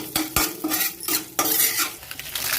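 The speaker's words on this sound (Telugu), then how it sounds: "వేయించేసుకోవాలి కొంచెం గోల్డిష్ కలర్ వచ్చే వరకు" Coriander seeds, cumin and urad dal frying in oil in a pan while being stirred toward a golden colour, with repeated metallic scrapes of a spoon over a steady sizzle, close and fairly loud.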